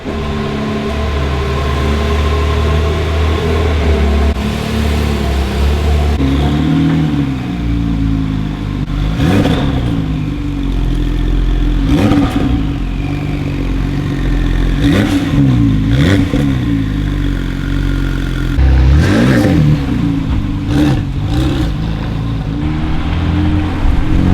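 2017 Porsche 911 Carrera GTS engine, a loud steady drone with repeated rising and falling revs, close and dominant throughout without talk.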